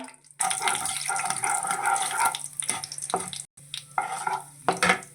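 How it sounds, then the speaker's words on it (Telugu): Mustard seeds, fenugreek, cumin and urad dal crackle and fry steadily in hot oil for a tempering, a dense close sizzle with small pops and a brief gap before it resumes. "ఆవాలు కొద్దిగా మెంతులు కొద్దిగా జీలకర్ర అండి కొంచెం మినపప్పు వేశాను వేయించేసుకుందాం చక్కగా"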